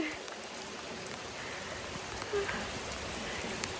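Rain pouring steadily, a constant wash of drops hitting surfaces all around, with no pauses.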